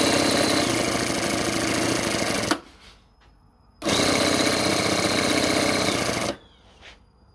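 A homemade 7cc, 1 HP two-cylinder Otto-cycle mini engine runs in loud, buzzing bursts. It roars for a couple of seconds, cuts out to near silence, fires again and then stops once more.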